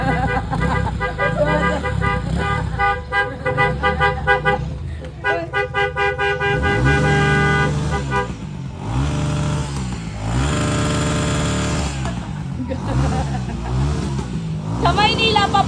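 Car and motorcycle horns honking repeatedly to mark New Year, sustained toots and blasts layered over running engines, loud and close, with voices talking underneath.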